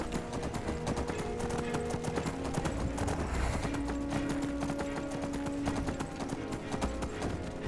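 Horse hooves clip-clopping in a rapid steady rhythm while riding in Skyrim, close and continuous, layered over dense game ambience and music with faint background sounds.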